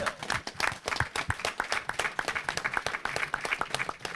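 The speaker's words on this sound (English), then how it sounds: "Let's give a round of applause for that deep class." A small gathering claps for a class that has just ended: sharp, distinct individual claps form a lively, uneven patter that carries on throughout, fairly close by.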